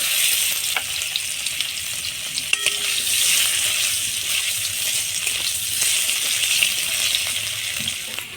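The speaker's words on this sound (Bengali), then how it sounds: "মাছের তেলে আলু কয়টা ভেজে নিব" Potatoes frying in fish oil in a village Bengali kitchen, a continuous loud sizzle with occasional light stirring clinks and scrapes close by, no speech.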